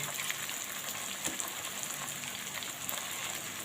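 Manthal fish frying in a pan gives a steady, hissing sizzle that stays even and close throughout, with a few faint pops and no talking.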